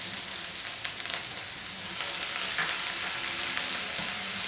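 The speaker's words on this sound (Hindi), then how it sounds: "अब ये तेल अच्छे से गर्म हो गया है। हम इसमें सबसे पहले लहसुन डालेंगे," Chopped garlic hitting well-heated oil for dry veg Manchurian, a continuous close sizzle that swells slightly midway, with a few light clicks of a utensil and no voices.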